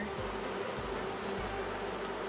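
Honey bees buzz steadily and densely while a hive is opened and split, a continuous low droning swarm hum that stays even and close throughout with no voices.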